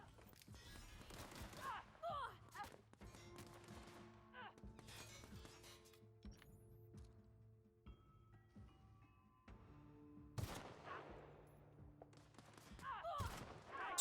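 Sniper fire in The Outer Worlds, a few sharp cracking shots spaced apart over quiet game ambience, with voices speaking between them.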